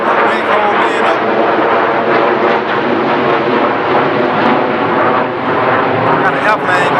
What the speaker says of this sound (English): got an airplane going by